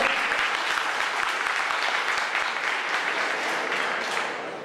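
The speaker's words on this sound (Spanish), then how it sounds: "No hay necesidad, compañeros, de aplaudir ni en el caso contrario de chiflar" A crowd in an auditorium applauds a speaker, a steady, dense, fairly loud patter of many hands that holds for several seconds and eases slightly at the end.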